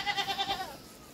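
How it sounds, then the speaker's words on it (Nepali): A goat bleats in a rural Nepali homestead, a single quavering call with rapid pulsing tremolo lasting about half a second, then fading into quiet outdoor background. "बाख्रा बाख्रा पुरा कतिवटा गयो जङ्गल"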